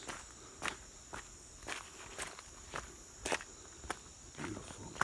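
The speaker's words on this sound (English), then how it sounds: "You hear my feet on these rocks?" Footsteps land on wet, slippery rocks during a trail run in the Costa Rican mountains, a steady series of about ten crunching, scuffing steps, close and fairly soft, over a background of insect hiss.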